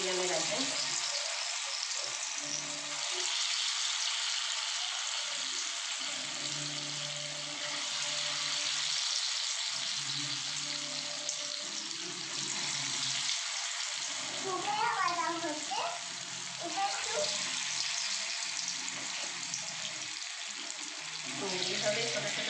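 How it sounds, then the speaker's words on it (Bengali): Small dollops of potato snack batter frying in hot oil on a medium flame, a continuous close sizzle and bubbling, with a voice talking over it at intervals. "দেখুন তেল গরম হয়ে গেছে, আমি ছোট ছোট করে ছেড়ে দেবো।"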